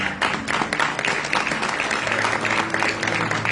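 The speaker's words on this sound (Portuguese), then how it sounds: "Vamos dar uma salva de palmas pela vida dele" Church congregation applauding together after a pastor's sermon, a dense steady wash of clapping that fills the whole stretch at close range with no pauses.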